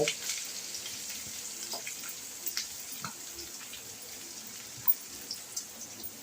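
Onions, green chillies and curry leaves with cinnamon and cloves sautéing in oil, a soft, faint sizzle with scattered small pops and light clicks throughout.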